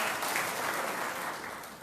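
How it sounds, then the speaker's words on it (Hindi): Audience applause for a council chairman at a municipal party meeting and honors ceremony, a steady wash of clapping from a crowd throughout the short moment. "इनके लिए भी तालियां बजाएं"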